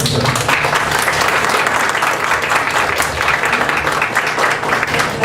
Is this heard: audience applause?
yes